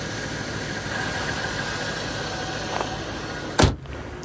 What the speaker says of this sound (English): The motor sounds fantastic.